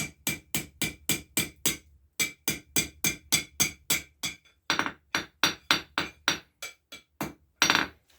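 Blacksmith hammering hot metal at a forge while shaping a dragon, a long run of loud rhythmic ringing strikes in quick bursts with short pauses between groups, close and alone.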